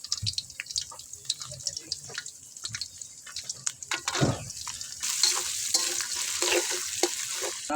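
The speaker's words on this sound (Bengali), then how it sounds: "এখন আমরা দেব পেঁয়াজ কুচিটা একটু হালকা করে বেজে নেবো" Chopped onion fries lightly in oil at a village cooking fire, with intermittent stirring scrapes and small drips at first, then a louder, fuller sizzle that swells and holds steady for the last few seconds.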